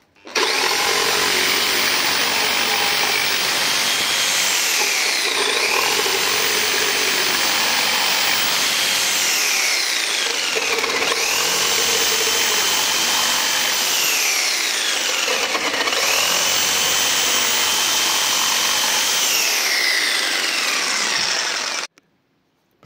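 Parkside Performance PPFS 1250 A1 230 V sabre saw cutting a pine board at speed 6 without oscillation, a loud steady buzzing saw with three cuts, each pitch dropping as the blade bites, then stopping abruptly near the end.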